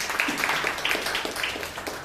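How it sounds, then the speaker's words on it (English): Audience applause for a Toastmaster at a Toastmasters club meeting, a steady, fairly quiet wash of many hands clapping that fills the whole two seconds with no talking. "Can we have a huge round of applause for Toastmaster Kalyani,"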